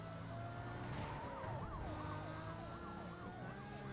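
Police car siren in the Need for Speed Most Wanted video game, a wailing tone sweeping up and down steadily over a continuous backdrop of car engine noise, loud and sustained throughout.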